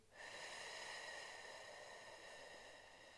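A long, steady exhale of breath during a Pilates exercise, a breathy hiss heard close and fairly quiet that swells quickly and then slowly fades over about three seconds.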